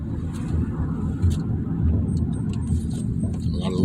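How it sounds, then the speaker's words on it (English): Steady rumble of road traffic drifting in through an open window in Chicago, a continuous low wash of passing cars with faint higher clinks and hiss on top, fairly loud and unbroken. "A lot of little traffic too."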